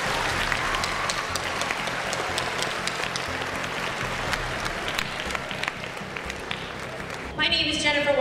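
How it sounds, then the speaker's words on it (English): A school audience at a high school academic achievement awards ceremony gives a long, steady round of applause, dense clapping from many people that carries on for several seconds under some talk. "please turn to your family members, teachers, and the rest of the school staff and give them a great big round of applause"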